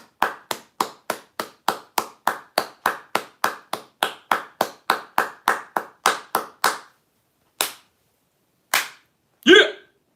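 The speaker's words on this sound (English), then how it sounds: "Everybody, I want to see some claps." A group of people claps together in a quick, steady rhythm of about twenty sharp claps, then trails off into a few scattered isolated claps and one louder burst at the end, with no talking.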